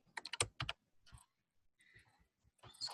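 Quick bursts of typing on a computer keyboard while writing C# code, with close, crisp key clicks in short runs and pauses between them.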